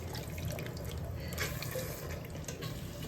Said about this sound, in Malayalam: ഈ വെള്ളം ഫുള്ളും അവിടെ ഒഴിക്കാണ്.